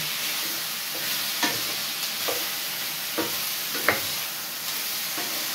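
Steady sizzle of chicken feet frying in a wok, with a spatula scraping and knocking against the wok every second or so as the food is stirred.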